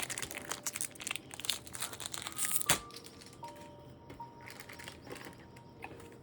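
A Pokémon card booster pack is opened up close, with crinkling and tearing of the foil wrapper, a sharp rip near the middle and then softer rustling of cards being handled.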